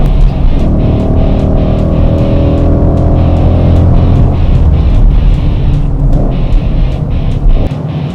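A car engine on a racetrack rises in pitch as the throttle is applied, with harmonic tones climbing steadily under a loud, continuous interior roar and brief gear-change dips.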